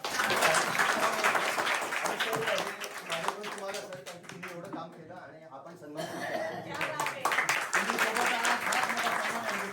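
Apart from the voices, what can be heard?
students and villagers applauding at a school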